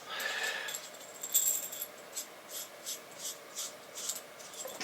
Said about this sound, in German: Ich schraube das mal ab.